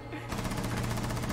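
Rainbow Six Siege gunshots in a ranked match, an automatic burst of evenly spaced rapid reports that starts abruptly and runs steadily to the end, with faint talk underneath.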